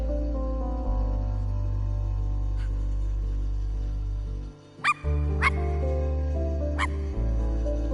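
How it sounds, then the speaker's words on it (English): A dog barks in the I Am Dead video game, with a few sharp yips near the middle and end cutting over a loud, sustained low drone. "I'll have to bark every once in a while because I can't tell if I'm missing them or not."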